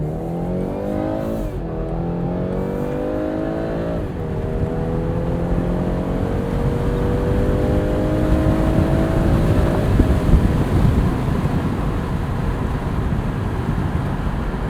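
A 2021 BMW 430i Convertible in sport mode accelerates hard up an open highway entrance ramp, its engine rising through gears with rev drops between shifts, loud and continuous from inside the cabin amid road and wind roar.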